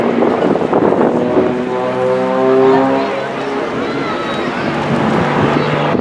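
Strong wind buffets the microphone at a coastal air show, a steady loud rumble with the droning hum of aircraft engines layered through it and no clear talk.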